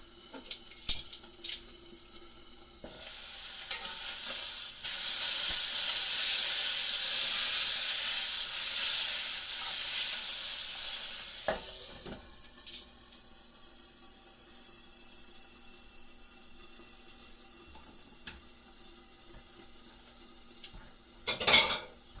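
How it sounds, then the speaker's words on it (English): A steak sears in a pan: a few utensil clicks, then a loud, hissing sizzle swells and holds for several seconds before dropping to a quieter simmer, with scattered clinks of cutlery near the end. "there to sear it so that all the juices are nice and juicy inside the steak"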